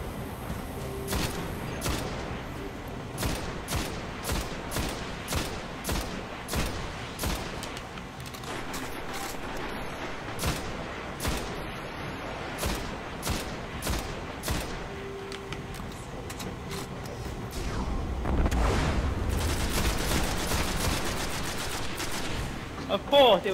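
Sniper gunfire in the video game Destiny: repeated sharp shots crack out at a steady rhythm, with rapid bursts and some booms, mid-loud among game sounds, ending in a heavier low rumble.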